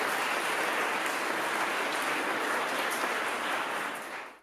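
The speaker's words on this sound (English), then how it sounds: "please join me in a big round of applause for today's speakers" A large audience at a TEDEd Club event in Turin claps steadily in dense, sustained applause that stays loud throughout before tapering off at the very end.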